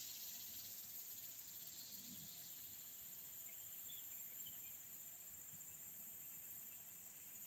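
Summer insects, likely crickets, keep up a faint, continuous high-pitched chirring and trilling in a quiet outdoor setting, with scattered soft calls over a low background hush.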